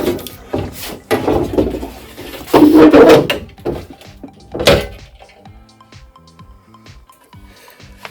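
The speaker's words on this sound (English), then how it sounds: "Gently push the window apart from the plastic flange. You will hear a loud pop." A rear door window on a Mercedes-Benz C-Class W203 is pushed free of its plastic flange. Several nearby knocks and rubbing scrapes build to a loud crack near the middle, followed by fainter taps and ticks.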